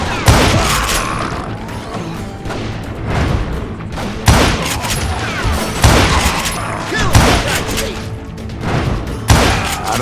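Gunfire in the western video game Call of Juarez Gunslinger comes as heavy, booming revolver and rifle shots in repeated bursts over a dense, loud battle din, with occasional voices mixed in.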